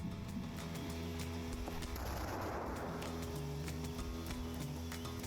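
Gunfire in a first-person video game, a dense continuous wash of shots, explosions and engine-like rumble with a louder burst in the middle, no talking over it.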